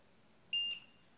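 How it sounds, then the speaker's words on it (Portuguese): A FIMI A3 drone controller gives one short, bright electronic beep as it powers on, clear against a quiet room. "Ele dá um bip e acende, tá vendo?"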